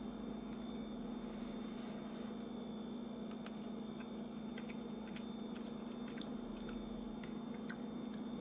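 Vegan mac and cheese being eaten straight from its container: soft, faint chewing and squishy bites under a steady low hum, with no talking.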